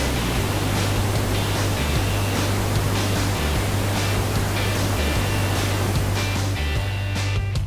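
Steady, dense rushing water roars continuously from a nearby waterfall in La Manche Provincial Park, Newfoundland, loud and unbroken, with a faint low rhythmic thumping underneath.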